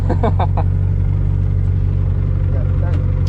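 A VW Golf 2 race car's engine rumbles steadily and loudly throughout, a constant low drone with voices briefly heard at the start.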